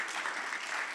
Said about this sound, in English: Clap to break up the space.